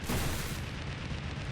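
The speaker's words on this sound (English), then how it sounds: "Explosion effect." An explosion effect from the video game Sephiria bursts at the start as a broad booming blast, then decays into a rumbling noisy tail over about a second.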